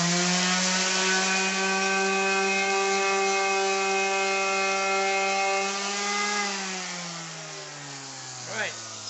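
A power sander running on the tops of wooden plugs for a loft ladder, a loud steady motor whine with strong droning tones that slowly drop in pitch as it winds down near the end.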